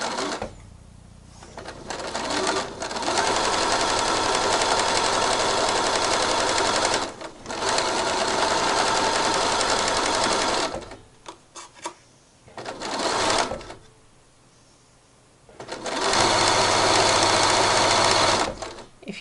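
Sewing machine stitching thick polar fleece for a mermaid tail, loud steady bursts of running stitches separated by short pauses, with no talking.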